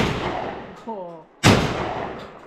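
A shotgun fires once at clay targets on a shooting range, a single sharp close blast with a decaying tail, preceded by a brief voice.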